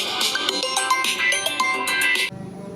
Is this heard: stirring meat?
no